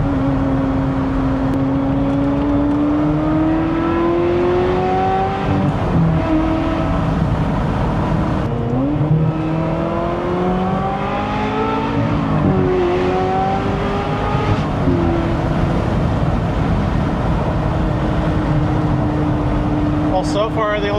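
Close and loud, a Ferrari 355 engine climbs and falls through repeated rev cycles and gear changes over about twenty seconds, a steady roar with rising whines between brief lifts.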